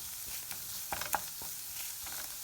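Onion, habanero and garlic fry quietly in a pan on the stove, a faint steady sizzle with a few light stirring clicks.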